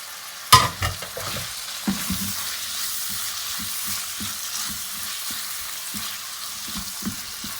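Minced goat meat with turmeric, black pepper, red chili, garam masala and salt fries in a pan for keema-stuffed capsicum: a sharp clank at the start, then a continuous sizzle with rhythmic spatula scrapes and taps close by, without speech.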